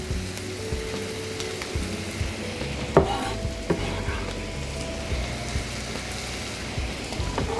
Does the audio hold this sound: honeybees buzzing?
no